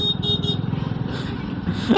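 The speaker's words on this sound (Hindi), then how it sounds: "स्कॉर्पियो वाले से डर के सब हॉर्न लगाने लग गए भाई" Several car horns honk repeatedly amid busy traffic noise on a road in India, short overlapping toots close by with engine rumble underneath, including horns from behind a Mahindra Scorpio.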